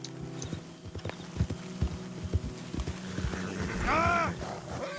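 Horses clip-clop at a walk in the Red Dead Redemption 2 video game, with steady hoof thuds and a clear whinny rising near the end over a low ambient hum.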